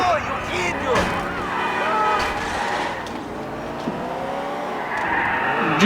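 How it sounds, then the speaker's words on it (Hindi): Car drifting with screeching tire squeal in a racing video game, engine droning steadily throughout while someone talks over it. "ड्रिफ्ट मार के जब ये गाड़ी चलती है ना, बस मजा ही अलग आ जाता है दोस्तों"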